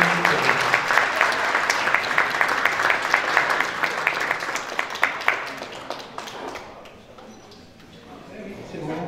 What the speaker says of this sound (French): belle applaudissement pour Mme Rachel Bakassou